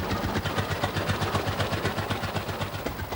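International Titan tractor engine running without a radiator, a steady rapid chugging beat of evenly spaced exhaust pulses, loud and close, with no voices over it.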